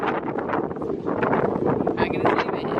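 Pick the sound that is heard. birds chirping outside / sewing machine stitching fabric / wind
wind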